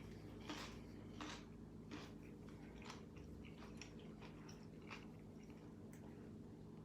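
Close, quiet crunching and chewing of a cucumber boat filled with tarragon chicken salad, a series of crisp bites and moist squishes spaced out over several seconds.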